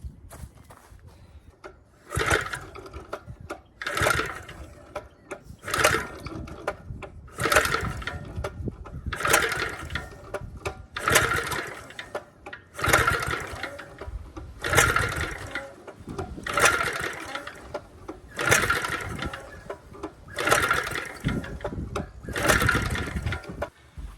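A vintage Hustler tiller engine cranks over and over without catching, about ten rhythmic chugging bursts separated by short pauses, fairly close and with no talking.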